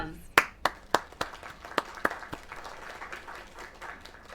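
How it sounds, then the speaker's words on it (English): Clapping from a small audience after a performance, a handful of sharp distinct claps at the start that settle into lighter, scattered clapping, with voices faintly in the background. "Another round of applause."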